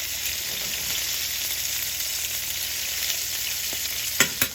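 Chicken sears in a frying pan, a loud continuous close-up sizzle and hiss, with a couple of brief clatters near the end as it's flipped.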